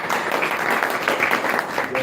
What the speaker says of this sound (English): Please clap once again.